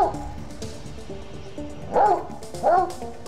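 A bloodhound barks twice in deep, resonant bursts over a soft musical background, the barks spaced about a second apart.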